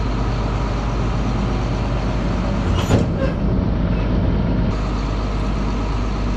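A tractor pulls a train of grain wagons along a road at the end of harvest. Its steady engine drone and rolling rumble carry loud and constant throughout, with one brief louder rattle midway.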